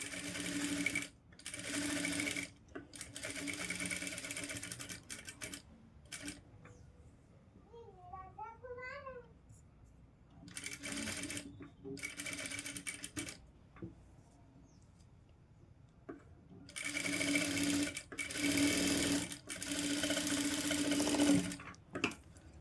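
Sewing machine stitching the neck of a golden blouse front piece, running in several loud bursts separated by pauses where a voice talks.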